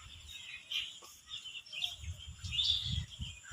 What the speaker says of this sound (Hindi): आपको यहाँ पे चिड़ियों के चहकने की आवाज़ भी सुनाई दे रही होगी